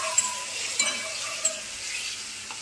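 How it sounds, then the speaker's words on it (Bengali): Potatoes sizzle softly in a pan with poppy seed and green chilli paste, with a few light scrapes of stirring standing out over a steady, quiet frying hiss. "এবারে আমি পোস্ত বাটাটা দিয়ে দেবো"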